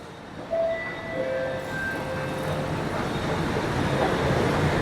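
A metro train at a Chennai metro station, a steady rumble of cars and wheels with a faint high squeal, close by and alone with no talk.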